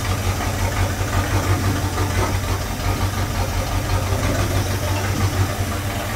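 A 1972 Ford Galaxie 500 station wagon, revived after sitting for about 20 years, idles steadily with a deep, even engine rumble and a light knocking texture, close and continuous with no talking.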